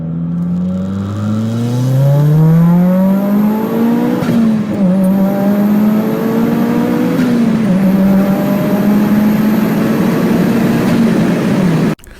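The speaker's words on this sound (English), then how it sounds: "I recently discovered the CBRD RBX Turbo Kit and the way it makes an Evo 10 sound." An Evo 10 with a CBRD RBX turbo kit and bespoke exhaust pulls hard, its loud exhaust note climbing through the revs in repeated surges between gear changes, close and steady throughout.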